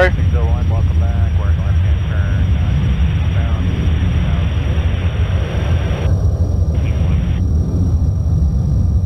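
Twin engines of a Lockheed SR-71 Blackbird in a flight simulator game hold a loud, steady roar while climbing toward cruise, with the engine drone constant throughout and no spoken words.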